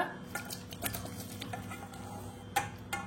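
Cooked jackfruit curry (kathal/echor) is scraped and poured out of a pan, with repeated metal utensil scrapes and clatters against the pan, a sharper clink near the end, and no talk.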